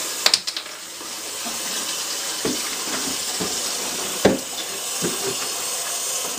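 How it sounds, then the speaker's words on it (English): Warm water flows from a household tap into a de-skunking mixture for a dog, a steady close hiss and rush with a few sharp knocks and splashes. "we're going to take warm water from your tap and we're going to add that right to the mixture"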